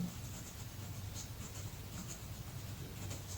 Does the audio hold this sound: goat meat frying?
no